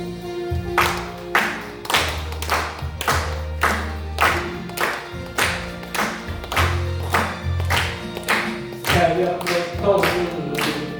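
A church congregation claps in steady unison along to a hymn during a Sunday service, sharp regular handclaps about once per second over sustained organ or keyboard tones.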